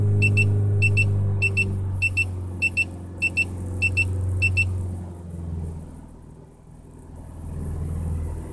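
A shift assistant device in an Opel Astra H gives short, sharp electronic beeps in quick pairs about seven times over a low engine rumble, then stops while the engine keeps droning.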